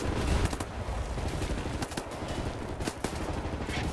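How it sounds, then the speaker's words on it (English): Rapid submachine gun bursts from Wolfenstein: The New Order, a steady crackle of close gunfire with sharper individual shots standing out over a dense, continuous rattle. "New weapon, submachine gun."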